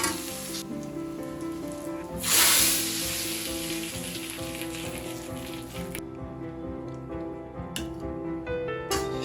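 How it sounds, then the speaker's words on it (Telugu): Chicken pieces deep fry in a small amount of oil, a dense, crackling sizzle that swells loudly for a moment early on, then settles into a steady close hiss with faint pops throughout. "చూసారుగా తక్కువ ఆయిల్తో, ఇది డీప్ ఫ్రై అండి, తక్కువ ఆయిల్తో చేశాను"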